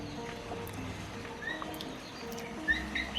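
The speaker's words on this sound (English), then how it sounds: "surrounded by the beautiful sounds of the jungle birds" Jungle birds on the Big Island of Hawaii chirp and tweet softly in brief, scattered calls over a steady background murmur, heard from a treehouse.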